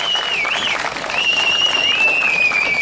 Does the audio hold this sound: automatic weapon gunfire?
no